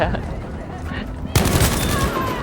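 Rapid bursts of gunfire in the shooter game Battlefield V, a dense crackle of shots that grows louder and fuller partway through, with a voice speaking over the din.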